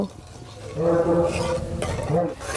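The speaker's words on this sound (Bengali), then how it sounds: "এবার নেড়ে চেড়ে খুব সুন্দরভাবে দুধটা একটু ফুটিয়ে নেব।" A pan of milk with sugar being stirred as it heats toward a boil, with close scraping and swishing of a spoon and a few soft clinks against the pan, plus a brief murmur of voice.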